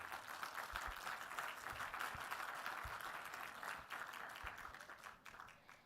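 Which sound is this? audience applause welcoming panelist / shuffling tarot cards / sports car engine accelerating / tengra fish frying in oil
audience applause welcoming panelist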